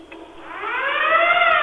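A hunk alarm on a radio show wails as a rising, swelling electronic siren tone, loud and alone, growing steadily over about a second and a half.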